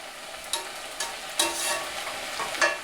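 Onions and peppers lightly caramelizing in a pan give a quiet, steady sizzle, broken by a few brief scraping stirs that stand out louder for a moment.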